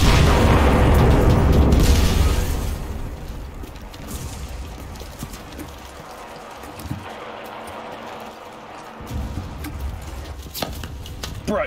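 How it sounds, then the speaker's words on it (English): A bomb explodes in the World War II shooter Enlisted, a heavy low boom that rumbles loudly for about two seconds and fades into quieter battlefield noise with scattered thumps and a later swell of rumble. "Oh, it's a bomb!"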